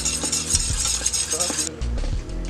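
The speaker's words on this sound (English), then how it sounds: "whisking this in." Melted butter being whisked together with a milk and white ale mixture in a pan, with brisk, rhythmic whisk strokes and light clinks of metal against the pan.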